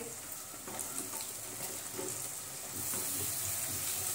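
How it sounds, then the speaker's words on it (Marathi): Quartered mushrooms sautéing in a pan with spiced masala, a steady soft sizzle with faint stirring scrapes throughout, growing slightly louder toward the end. "मशरूम आपण परतून घेऊ"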